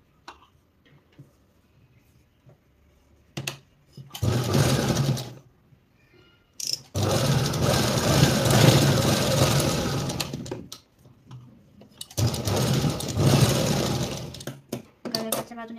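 A sewing machine stitches the outer edge of a blouse strip on a princess blouse, running in three loud bursts of steady mechanical whirring separated by short pauses with small clicks.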